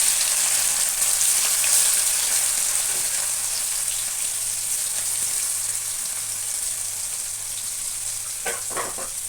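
Beef frying in leftover oil that had been kept in the fridge, a steady broadband sizzle running close and loud through the whole stretch, with a few brief stirring scrapes near the end and no talk.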